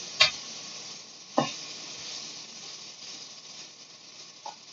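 Winged beans simmering in coconut milk are stirred in a pan with garlic and onion, giving a steady soft sizzle broken by a few sharp spoon scrapes near the start and middle; no voices.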